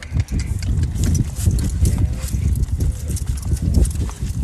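Horse hooves clip-clop steadily and close by during a riding lesson, a dense run of hoofbeats over soft ground with faint voices in the background.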